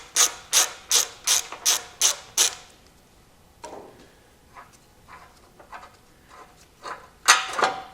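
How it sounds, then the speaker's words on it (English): A hand ratchet loosening an 18mm bolt on the front bumper of a car, working in a quick burst of about seven loud, sharp clicking strokes, then a few softer scattered clicks and a final sharp burst. "We're going to remove the nut and bolt here in the front."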